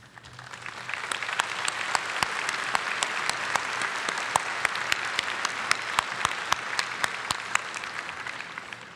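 Commencement audience at a 2021 College of Health Sciences ceremony applauds the standing faculty: steady, full applause from a large crowd, sustained for the whole stretch with sharp individual claps popping out of the dense wash.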